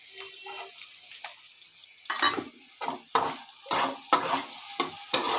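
Onion, carrot and chopped chilli fry in a pan, starting as a quiet sizzle before a series of sharp stirring scrapes and hisses at a regular pace, close and fairly loud.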